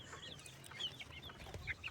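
Chickens and their chicks cluck softly and peep while pecking at feed on a farm, a faint, busy scatter of short calls with no talk.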